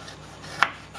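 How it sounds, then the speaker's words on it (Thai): A knife slices through unpeeled ginger on a board, a single crisp cut landing midway amid faint scraping, close and fairly quiet. "หั่นขิงนะคะทั้งเปลือกให้ได้3แว่นนะคะ"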